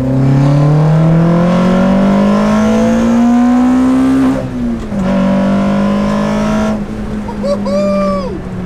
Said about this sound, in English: this engine revs to 9 grand